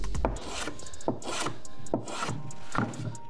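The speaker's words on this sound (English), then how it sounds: "all I'm doing there is just taking a nice chamfer off the edge" A wooden carpenter's fence piece gets its edge chamfered by hand, giving a series of close, dry rasping strokes at an uneven pace, each scrape marked by a sharp onset.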